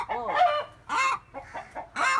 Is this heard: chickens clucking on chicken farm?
yes